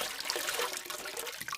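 Water from a river trickles and splashes softly as a man bends down to wash his hands, a steady watery wash filling the short moment with no voices.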